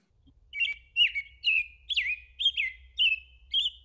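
A bird sings a clear, fluty song of repeated whistled phrases, about seven in quick succession, bright and fairly near over a low background hum.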